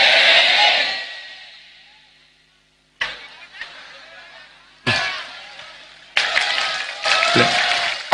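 Audience applause at an outdoor Javanese Islamic religious sermon, several bursts of clapping: a loud wave fading out, then renewed rounds that rise again, fairly close and dense.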